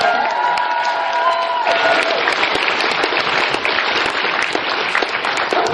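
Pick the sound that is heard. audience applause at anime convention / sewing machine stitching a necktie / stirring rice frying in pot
audience applause at anime convention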